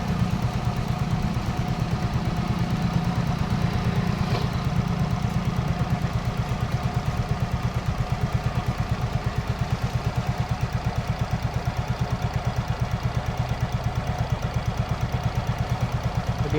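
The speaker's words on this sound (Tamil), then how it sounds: "வண்டி ஆயிலிங் சூப்பராக ஆடுது" A Yamaha Ray scooter engine with an idling problem ticks over steadily at close range, a fast even putter that holds level throughout with no voices.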